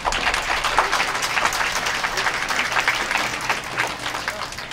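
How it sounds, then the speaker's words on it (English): A science café audience gives a warm round of applause to a guest speaker, a steady, dense wash of many hands clapping for several seconds, fairly loud and close. "please give a warm round of applause for Dr."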